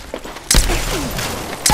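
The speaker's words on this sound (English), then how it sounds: "Getting shot at!" Gunfire rings out in the video game Apex Legends as two loud, close bursts of shots separated by a short stretch of quieter background noise.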